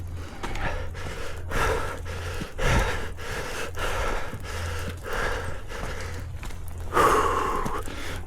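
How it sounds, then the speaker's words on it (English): Slow, deep breaths drawn in and pushed out, repeated steadily over several seconds, close and fairly loud with no talking. "Breathing in and out, big breaths, letting that oxygen in our system."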